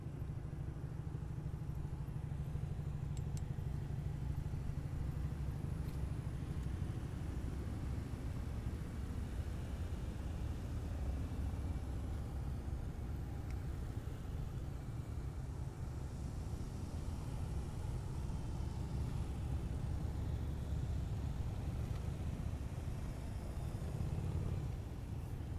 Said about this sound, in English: Deputy Hill's body is in the Bearcat, the green tank-like vehicle that's approaching.